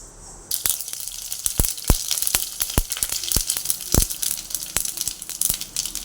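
Mustard seeds, dried chili and curry leaves frying in hot oil for a beetroot and jackfruit seed thoran, giving a steady close sizzle broken by sharp, irregular pops and crackles.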